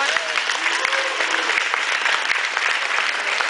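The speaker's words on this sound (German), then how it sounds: "Ist das nicht ein kleiner Applaus wert?" Audience applause at an autograph session in Leipzig, a steady dense wash of clapping from a small crowd that holds evenly for a few seconds, fairly close and loud.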